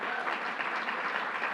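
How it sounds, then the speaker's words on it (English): Audience applause at a New York City announcement by the governor, a dense steady wash of clapping that holds evenly throughout with no talk. "Give her a round of applause."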